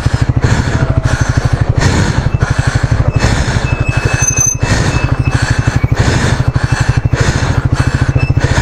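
Triumph Speed 400 motorcycle engine labouring on a rough off-road mountain trail, a loud, steady close-up thrum with rapid regular pulses throughout and no voices.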